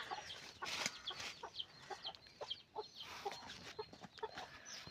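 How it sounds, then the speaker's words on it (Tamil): On a friend's farm, a hen out foraging with her chicks gives soft, repeated clucks, mixed with thin high peeps from the chicks, faint and intermittent with no talking. "அங்கே ஒரு கோழி மேய்ஞ்சிட்ருக்கு குஞ்சு கோழியோட."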